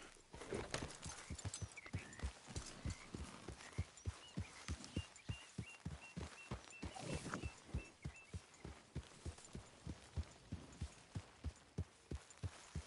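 Steady clip-clop of horse hooves trotting in an even rhythm in a PS4 video game, fairly close, with a faint tonal whistle and background ambience in the middle stretch.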